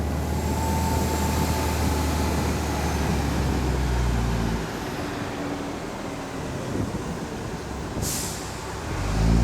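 A tour bus in Sydney pulls toward its stop near the Australian National Maritime Museum, its steady engine rumble dropping away midway before a short, sharp air-brake hiss bursts out near the end and the engine swells again.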